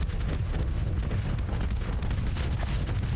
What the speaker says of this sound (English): Now that barrage is going to keep up at this point.